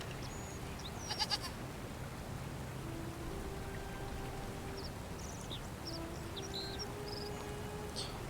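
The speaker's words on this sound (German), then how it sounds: "Eine Ziege." A goat bleats a few times in the video game The Forgotten City, set in ancient Rome, faint and distant against steady rain and ambient outdoor background with no talk.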